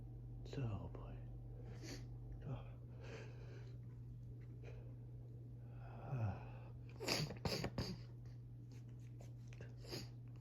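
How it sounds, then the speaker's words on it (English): Several rapid, breathless morning sneezes, sharp bursts scattered across the span with quiet snorting breaths and whispered murmurs between them, close and fairly soft. "I'm gonna sneeze."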